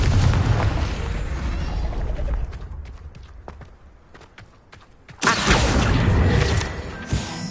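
The Confringo fire spell explodes in Hogwarts Legacy with a loud, roaring boom that slowly fades into crackling debris, then a second heavy blast bursts in and rumbles on.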